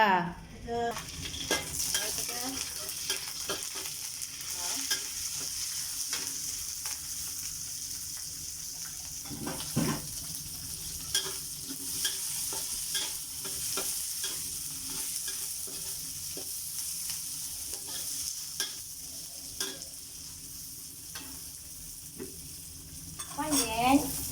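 Steady sizzling and frying of long beans with egg in a pan, with intermittent scraping and stirring clatter, close and continuous, no talking.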